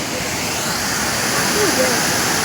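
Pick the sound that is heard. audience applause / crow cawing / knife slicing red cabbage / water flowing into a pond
water flowing into a pond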